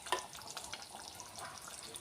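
Spiny gourd curry simmering in a clay pot, soft gurgling pops and bubbling close by, faint and irregular against a quiet background.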